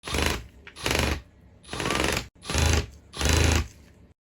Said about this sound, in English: vary the speed to 1 on the drill, which would be used to screw down the anchor onto the picture frames